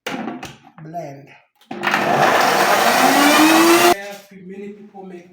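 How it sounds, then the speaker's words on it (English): A kitchen blender churns mango juice with ice, a loud steady whirring roar that runs for about two seconds between stretches of someone talking nearby. "Add some cubes, ice cubes, then blend."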